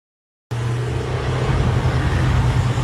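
Interior drive of an old 1982 car, a steady loud engine and road drone that starts abruptly after half a second of silence and continues unbroken.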